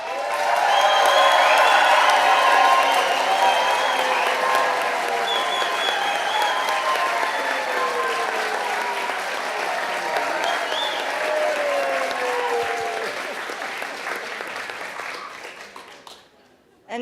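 An audience at a wearable-art hat contest greets a contestant with sustained, loud applause that holds strong for several seconds and then slowly thins and fades out, mixed with crowd murmur and a few voices.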